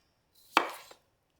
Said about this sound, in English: My favorite way to cook roast potatoes is to cut them into quarters